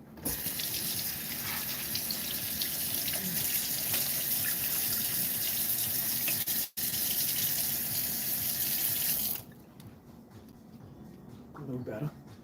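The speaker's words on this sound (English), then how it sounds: "Put some hot water on." Hot water gushing from a tap while fish are cleaned at home, a loud steady hiss of running water that stops abruptly near the end, followed by quieter handling sounds.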